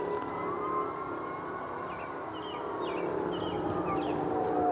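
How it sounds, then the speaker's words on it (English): A police or ambulance siren wails in the distance outdoors at sunset, a faint rising and falling tone over steady background noise, with no one talking. "I hear cops, or ambulance."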